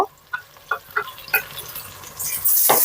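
Biryani spice paste of onion, ginger and garlic frying with fried onion and powdered spices: a few sharp stirring scrapes and clinks of a utensil in the pan, then a rising, steady sizzle close by, with no talking.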